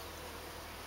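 Honey bees from a top bar hive hum in a steady, dense buzz while a comb is handled, a continuous close drone with no voices.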